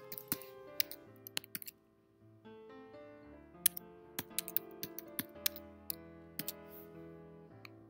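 Sparse, irregular clicks of keys being typed on a computer keyboard, quiet and close, over a faint steady tonal background.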